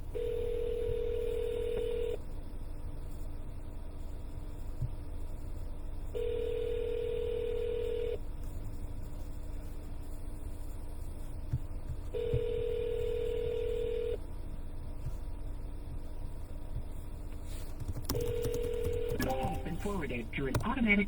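A phone dialing out during a cold call from a car: a repeating ringback tone sounds in evenly spaced two-second bursts against a steady low hum, with a brief burst of other sound at the end.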